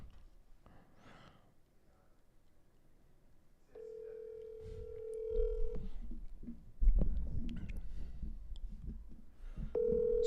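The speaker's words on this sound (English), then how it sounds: "We're going to start dialing." Telephone dial tones sound while a call is placed, with a steady tone sustained for about two seconds and another starting near the end, over background murmur and handling noise.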